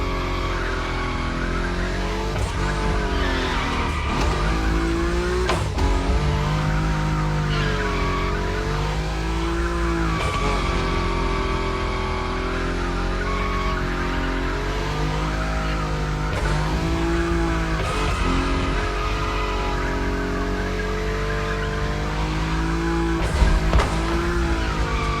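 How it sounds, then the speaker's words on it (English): Nissan Nismo car drifting at high speed in The Crew Motorfest, with a steady loud engine drone and sliding tire noise carrying on without a break, and no talking over it. "Your Nismo is powerful enough to slide along on its own when you're at high speed"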